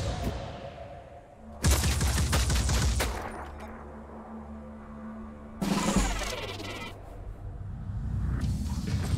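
Bursts of rapid gunfire from the game Phoenix Point, two loud volleys of several seconds each separated by quieter ambient shooting and distant shots.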